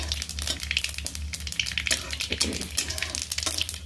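Cumin, nigella and mustard seeds fry in oil, giving a busy, close crackle of small pops and spits over a low steady hum.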